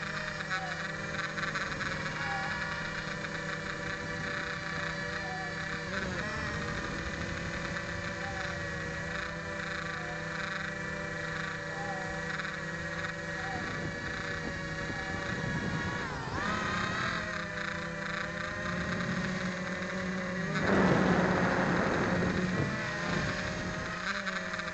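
A 3D X6 quadcopter drone flies and hovers outdoors, its rotors giving a steady, continuous whine that holds an even level throughout and swells briefly louder near the end, with some wind noise mixed in.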